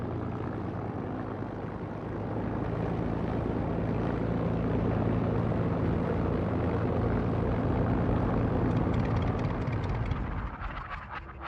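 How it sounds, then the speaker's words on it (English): An RAF Spitfire fighter aircraft in flight, with a sustained, loud piston-engine drone that swells slightly and then thins out near the end, and no voices. "These Spitfires are operated by an RAF Norwegian unit, flying sorties into their occupied country from bases in Scotland."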